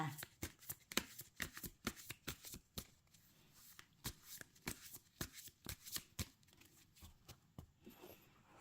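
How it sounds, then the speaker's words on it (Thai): Tarot cards being shuffled and cut by hand, a quick irregular run of crisp riffling slaps and snaps close to the listener, with no talk over them. "ขอเป็นตัวแทนสับไพ่ตัดไพ่ให้คนเกิดวันจันทร์ค่ะ"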